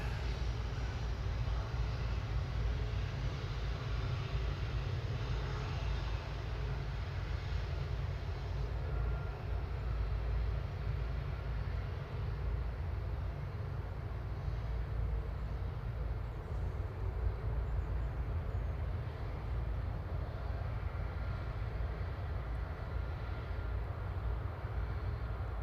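An Air France Airbus A220 landing with reverse thrust at Manchester Airport: a distant, steady low roar that persists without a break.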